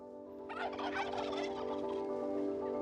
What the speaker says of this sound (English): Turkeys answer back.